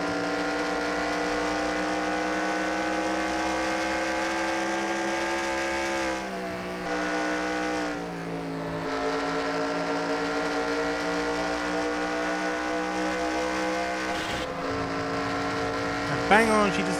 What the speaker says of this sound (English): So let's go on board Daddy Cool in the Ikaira car.